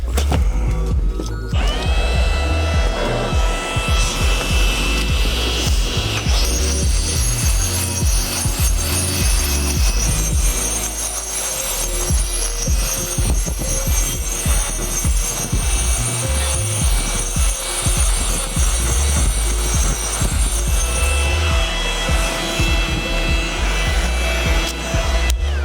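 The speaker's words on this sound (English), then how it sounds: "You just gotta pull it up, grind a little bit more," A power grinder working down the cap stone of a backyard wall, a continuous loud, rough grinding that shifts in pitch as the tool is lifted and reapplied, with no break throughout.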